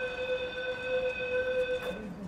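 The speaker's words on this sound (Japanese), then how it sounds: "乗ってきた青波線の電車、出発していきます。" Aonami Line commuter train departing a station, a steady electric motor whine with clear harmonic tones sustained over the platform ambience, ending with a brief higher squeal.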